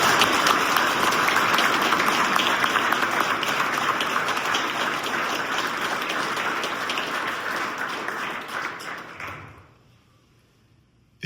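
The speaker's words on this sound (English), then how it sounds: "give our spouses a round of applause for all that they deal with behind the scenes" A fire department award and promotion ceremony audience applauds firefighters' spouses with dense, sustained clapping that fills the room for about nine seconds, then fades quickly into near silence.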